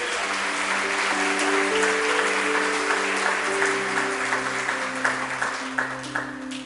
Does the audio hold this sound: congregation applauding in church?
yes